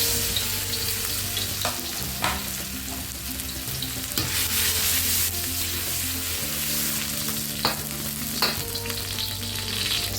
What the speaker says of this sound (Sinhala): සුදු ලුණු ටික රන්වන් පැහැයට බ�ෙදෙනකොට